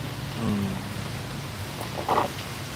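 Heavy rain pours in Vientiane, Laos, a steady broadband hiss of falling water with a faint low rumble and a few brief louder spatters near the end.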